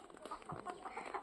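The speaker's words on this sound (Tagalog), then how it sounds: "Meron pang manok dito." Chickens on a grandmother's small farm cluck softly in short, scattered calls, faint and a little distant over quiet outdoor background.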